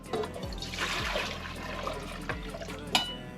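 Hot water pours into a container for homemade bread dough, a steady liquid trickle and splash running throughout with a few soft knocks, fairly close and alone.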